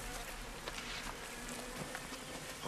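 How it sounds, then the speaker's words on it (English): Tobacco bugs buzzing, a continuous faint insect drone with a steady hum underneath, distant and low in level, with no talk. "Millions of dollars are lost annually because of the destructive little tobacco bug."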